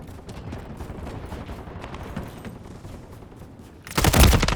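Automatic gunfire from a Call of Duty: Modern Warfare 3 multiplayer match rattles in rapid distant bursts, then a louder, closer volley erupts near the end.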